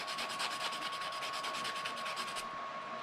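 A sanding block rubs steadily over a plastic model kit part in quick, even back-and-forth strokes, close and continuous for a few seconds before easing off.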